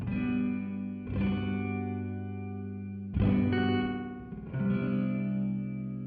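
Sustained ambient electric guitar chords run through a Time Dilation V5 modulation pedal, two long shimmering strums swelling and warbling with chorus-like movement and trailing echoes.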